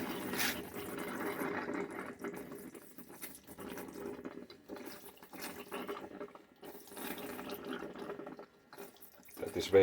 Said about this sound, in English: This is our shower pressure.